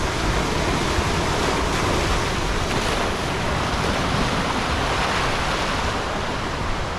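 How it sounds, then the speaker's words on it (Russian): Surf rolls in without pause at Nai Harn beach, Phuket, a broad, close, steady wash of breaking ocean waves with no one speaking. "Снова вам хочу волны показать."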